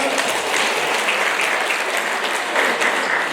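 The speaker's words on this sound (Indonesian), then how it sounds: "Tepuk tangan bagi kita semua." Steady applause from a crowd, dense clapping that holds at an even level throughout without pause.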